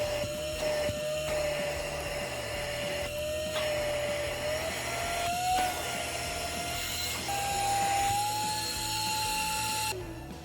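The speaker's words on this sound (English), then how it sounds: "It's a tiny handheld vacuum that you can use for picking up dust." A tiny 100000 RPM handheld air duster and vacuum with LED light runs in vacuum mode, a steady high-pitched electric whine that slowly shifts in pitch, broken by a few short clicks and brief changes in motor load, close and alone.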